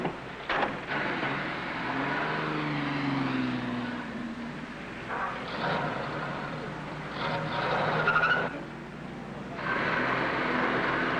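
A car engine idles and shifts while being backed into a garage stall, a steady low rumble with faint creaks and muffled thumps in a radio comedy scene.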